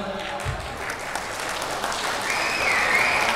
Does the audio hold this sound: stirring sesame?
no